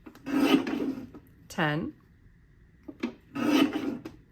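Scrapbook paper is drawn through a paper trimmer in two rasping, close cuts, one near the start and one near the end, with a brief spoken word between them.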